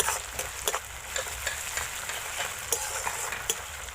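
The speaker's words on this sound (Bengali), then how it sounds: "আদা রসুনটা ভাজা ভাজা হয়ে গেছে" Ginger and garlic sizzle in a hot pan, a soft continuous frying hiss with regular light stirring scrapes, close up and alone.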